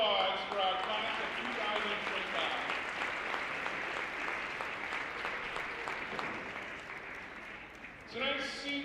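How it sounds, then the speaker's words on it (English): A gym crowd at a girls varsity basketball senior night between Blackstone Valley Tech and Ashland applauds the senior class in a long, steady, moderately distant wash of clapping, with an announcer's voice coming in at the close. "One final round of applause for our class of"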